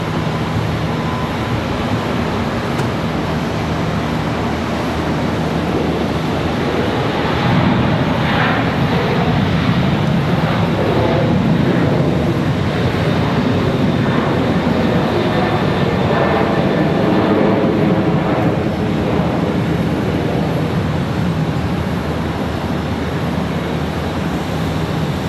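Boeing 737-800 airliner on its takeoff roll at Charlotte Douglas International Airport, a steady broadband jet roar that swells slightly midway and holds; distant-to-moderate, continuous, with no voices.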